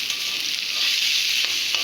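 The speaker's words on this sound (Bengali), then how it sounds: "পরিমাণ মতো একটু তেল দিয়ে নিলাম দিয়ে তেলের মধ্যে এইবার আলুগুলোকে ছেড়ে দেবো" Potato pieces fry in hot oil in a pan, a steady close hissing sizzle with a few brief crackles and no talking.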